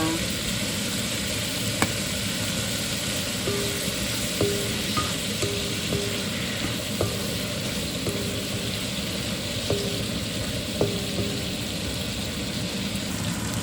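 Pancit being stir-fried in a pan with pepper, a loud steady sizzle close up, punctuated by repeated light clinks and scrapes of a utensil against the pan at an irregular rhythm.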